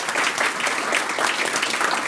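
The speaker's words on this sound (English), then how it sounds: "So I'd like to have a round of applause for her." A crowd at a journalism awards dinner applauds, a continuous dense patter of many hands clapping at an even level, fairly close and without talk.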